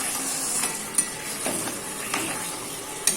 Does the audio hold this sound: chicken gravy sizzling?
yes